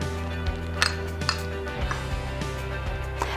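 Light clinks and taps of peppermint sticks dropped into a small ceramic ramekin for a hot cocoa station, a few sharp scattered contacts over a quiet room.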